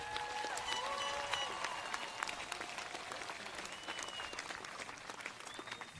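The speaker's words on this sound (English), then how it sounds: "Let's have one more round of applause for our class of 2026" Steady, dense applause from a large graduation audience at the Kea'au High School Class of 2026 commencement, honoring the valedictorians; the clapping runs at an even level throughout with a few faint whistles or cheers above it.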